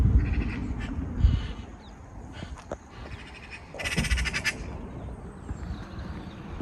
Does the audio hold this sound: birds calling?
yes